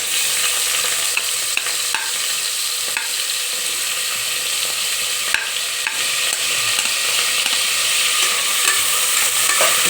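Onions sautéing in a pan, a steady close sizzle with spatula scrapes and stirring clicks recurring throughout, no voices.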